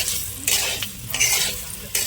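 Whole garam masala, dried red chillies and bay leaves frying in hot oil in a kadai while being stirred, with a steady sizzle broken by a few louder scraping stirs, close and with no talking.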